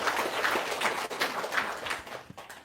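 An audience applauds steadily at moderate distance, a dense wash of clapping that holds evenly before thinning out toward the end, with no talk over it.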